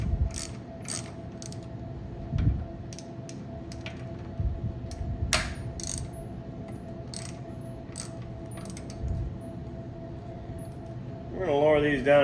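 A ratchet loosens the handlebar riser bolts on a Harley Heritage Softail. Sharp clicks come in scattered bursts over a low background hum, and a louder rattling burst closes the stretch.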